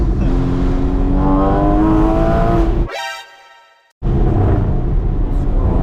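A Porsche 981 Spyder engine revs up hard and loud with a rising howl, cuts off abruptly for about a second, then picks up again with a strong, close roar.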